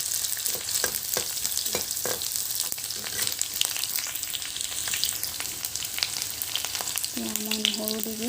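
Onions frying in a pan for a jackfruit seed curry, a continuous close sizzle with scattered stirring scrapes and taps, with a brief ringing tone near the end.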